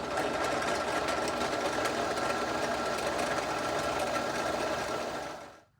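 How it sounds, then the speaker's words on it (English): Right-angle drill boring holes in the dashboard of a 1955 Ford Fairlane, a steady, loud motor whir with a rapid buzzing chatter that runs continuously for several seconds and then stops. "I can't drill unless I got my right angle tool"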